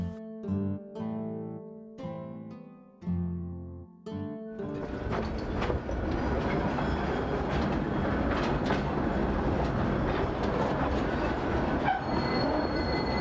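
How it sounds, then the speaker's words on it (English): A mine tour train rolls into an underground mine on rails after a few bell-like metallic tones. The rumble then builds into a loud, continuous roar with squealing wheels and rattling cars, close and steady to the end. "the tours enter the mine on trains"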